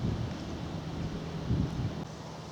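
Wind on a countryside walk past Browse Wood near Steeple Morden: soft, low rumbling gusts buffet the microphone, faint and fairly steady, with a slight swell near the middle.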